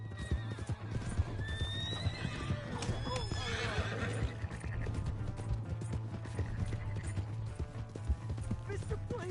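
In a PS4 video game a horse gallops with rapid clip-clop hoofbeats and neighs, under shouting characters, a steady low hum and game sound effects.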